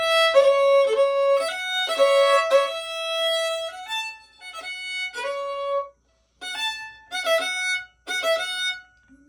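Solo violin plays the opening phrase of the Scottish pipe tune Father John MacMillan of Barra, clear and close, with ornamented notes in short bursts and a pause partway through.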